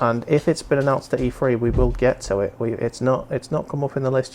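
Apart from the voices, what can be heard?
No everyday noise stands out behind the speech.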